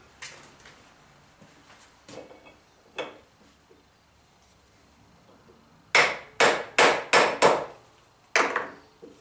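A hammer taps a part into a tight fit on a fan hand wheel, first a few scattered light knocks, then a run of six loud, sharp ringing blows in quick succession, close by.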